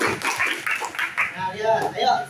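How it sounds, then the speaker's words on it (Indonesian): Classroom clapping for a student, a brief burst of hand claps from the class mixed with voices and chatter over the top. "kasih tepuk tangan dulu buat Aryan"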